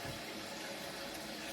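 Water runs from a kitchen tap into a pot to be heated, a steady, faint splashing rush that continues unbroken without speech.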